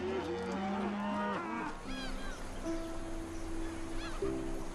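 A herd of free-roaming water buffalo in Hong Kong heading toward the seashore, several animals mooing and lowing in overlapping calls, fairly near, with bird honks in the background.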